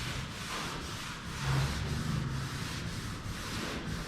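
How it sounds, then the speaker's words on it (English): A boat hull is scuff-sanded by hand before painting, making a continuous close rubbing and scratching sound with a slight back-and-forth rhythm and no talking. "you gotta scuff it"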